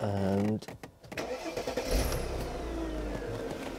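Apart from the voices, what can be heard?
V12 BMW 7 Series engine starting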